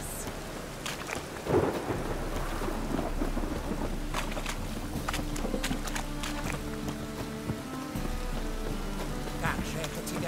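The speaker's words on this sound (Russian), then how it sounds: "Ну вот, еще и дождь." In the city of Novigrad in the video game The Witcher 3, steady rain falls while thunder rumbles, with one louder crack near the start and background voices throughout.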